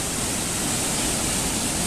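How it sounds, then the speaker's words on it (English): Glacier meltwater rushes down a rocky gorge in Girdwood, Alaska, heard from a small bridge above as a loud, steady, broadband roar with no pauses. "this water is just barreling down this gorge."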